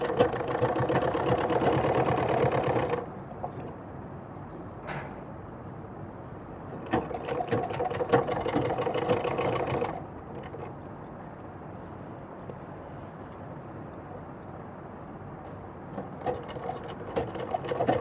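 A sewing machine stitches a dress in bursts, loud runs of rapid needle clatter broken by quieter pauses while the fabric is repositioned, with no talking.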